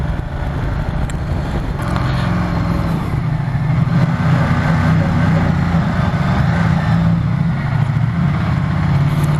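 A motorcycle engine idles at close range, a steady low rumble holding an even, continuous drone throughout with no revving.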